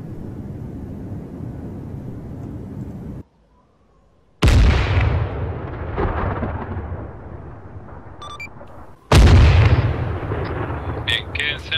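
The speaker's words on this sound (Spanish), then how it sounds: "Bombas fuera. Viene CAS." Close air support bombs explode in the Arma 3 military game during a Navy SEALs operation: two heavy, loud blasts after a brief silence, each followed by a long rumbling decay under ongoing battlefield noise.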